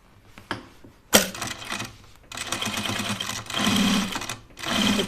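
A sewing machine stitches binding onto an oven mitt, starting after a few clicks and a sharp knock, then running in three steady bursts of close, rapid whirring with brief stops between.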